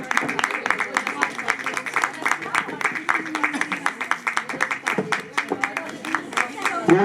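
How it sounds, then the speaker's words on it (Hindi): An audience claps along at a 2023 Christmas drama in Adra, Rawalpindi: steady, rhythmic hand clapping runs throughout, moderately loud, with voices faintly mixed in. "तालियां बजाते हुए प्लीज।"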